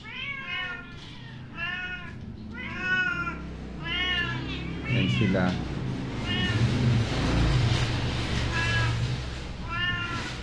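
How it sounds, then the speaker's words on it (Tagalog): Several cats meow repeatedly, close by, their cries rising and falling while a person speaks briefly partway through. "Ang mga pasaway na pusa."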